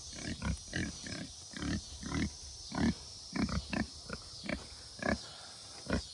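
Pigs grunt in short repeated bursts, a dozen or so low snorts spaced irregularly, close by with a faint steady background hum.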